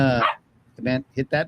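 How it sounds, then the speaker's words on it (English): Two dogs in a room, a few loud, close sharp barks in quick succession, with someone speaking just before them. "excuse my dogs"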